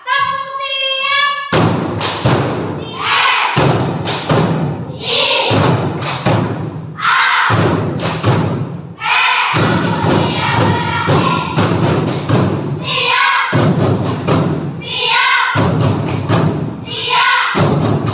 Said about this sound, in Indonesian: Kita cek tepuk siapnya. Tepuk siap.